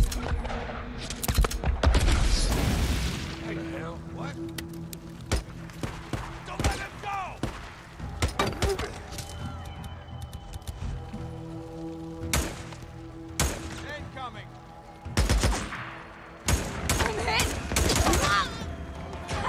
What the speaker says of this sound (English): make her go over there and then shoot the jerry can.